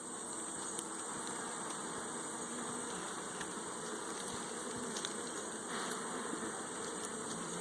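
Honey bees buzzing on a hive frame during a pre-winter hive inspection, a dense, continuous hum of many insects close by, steady throughout.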